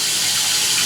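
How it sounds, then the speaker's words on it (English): Room-temperature water runs steadily as a ball python is rinsed, a constant close hiss of flowing water with no talking. "get some room temperature water once again, and just rinse her off very well and thoroughly"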